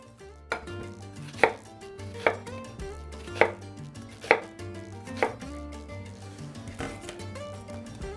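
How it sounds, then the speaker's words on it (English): Knife cutting a medium white onion into thick slices on a board, about seven distinct sharp chops spaced roughly a second apart, close and clear over quiet background music. "Now go ahead and cut the entire medium white onion into thick"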